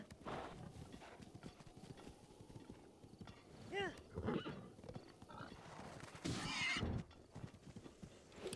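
A horse whinnies and its hooves clip-clop in the video game Zelda: Breath of the Wild, with a clear neigh midway and a steady hoof rhythm underneath, and someone speaks faintly in the background.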